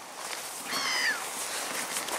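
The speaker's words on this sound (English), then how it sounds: "There's a cat." A cat meows once, faint and a short way off, at a carp fishery, a thin rising cry over a steady outdoor background hiss with no talk.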